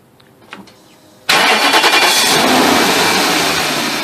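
A BMW 740 engine cranks and catches at once, jumping from near silence to a loud, steady running roar that continues to the end.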